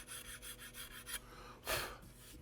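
A sharp hand scraper drags over a walnut gun stock on a Remington 81, stripping old finish in soft rhythmic rasping strokes, close and quiet, ending with one longer, louder pass.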